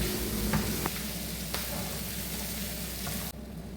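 Clam meat stir-frying and roasting in a hot pan gives a steady, close sizzle, with a few sharp scrape ticks as it is tossed. The sizzle drops off abruptly near the end.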